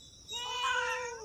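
A house cat lets out a single drawn-out meow, close and fairly clear, rising and falling over about a second.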